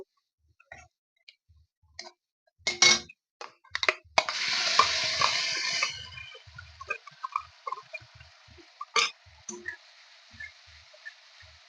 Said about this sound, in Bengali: এখন আমি এর মধ্যে দিয়ে দেবো বেটে রাখা মশলাগুলো।